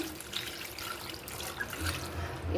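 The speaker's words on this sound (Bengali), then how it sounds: "পানি দিয়ে দিচ্ছি" Water is poured into a cooking pot, giving a soft, fairly quiet trickle and splash that keeps going throughout, with no talking.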